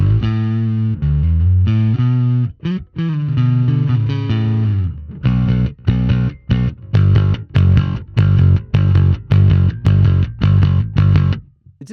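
Bass guitar through a Sonicake Matribox II Pro with scooped distortion: a sustained fuzzy phrase, then a series of loud, evenly spaced chopped notes, gritty and clipped-sounding, with no voices.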